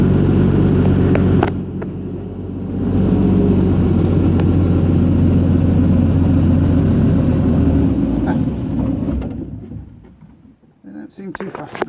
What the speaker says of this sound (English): I'll just shut the tractor off now